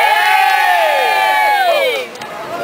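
A big outdoor crowd at the Belladrum festival in 2009 cheers and whoops loudly and steadily for about two seconds, then the noise drops away into a quieter murmur.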